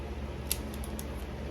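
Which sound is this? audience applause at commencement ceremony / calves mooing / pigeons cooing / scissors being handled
scissors being handled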